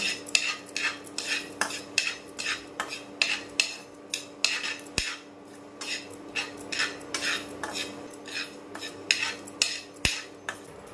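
Steady scraping and clinking of a utensil stirring spices in a pan, rhythmic strokes repeating throughout, with a faint sizzle underneath.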